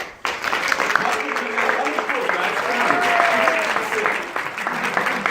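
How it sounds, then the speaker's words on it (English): A room full of teenagers at a youth seminar gives themselves a round of applause, with steady, dense clapping that holds fairly loud and even for about five seconds before easing slightly at the end. "So give yourselves a round of applause."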